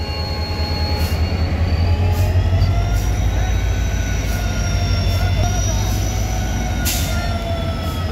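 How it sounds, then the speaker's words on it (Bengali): The Tinsukia-Tambaram Express pulls out of North Lakhimpur station with a loud, steady low rumble of rolling wheels and thin metallic squeals riding above it. "নর্থ লক্ষ্মীমপুর থেকে ট্রেন এখন ছেড়ে দিচ্ছে।"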